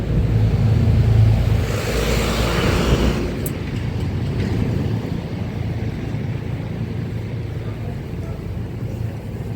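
A car passes on a street in Edinburgh, a broad low rumble loudest early on and fading as it goes by, with steady traffic and city ambience continuing underneath.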